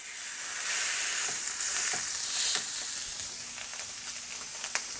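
Hanger steak searing hard in a very hot pan, a loud, steady broadband sizzle that swells and eases with scattered crackles and pops, with no talking.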